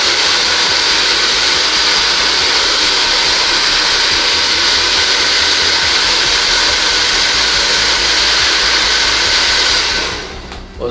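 A hair dryer blows steadily on a derma roller, a loud constant whoosh that runs uninterrupted for about ten seconds before switching off and winding down.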